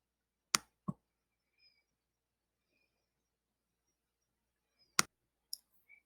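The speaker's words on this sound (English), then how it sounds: "So I'm going to click submit." A computer mouse clicks on a submit button, a couple of sharp close clicks followed by a pause, then another pair of clicks in a quiet room.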